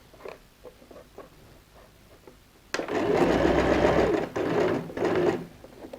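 Sewing machine stitching the side panel of a magazine-print handbag, a loud close whirring run that starts abruptly after quieter soft handling sounds, with a brief dip before it resumes.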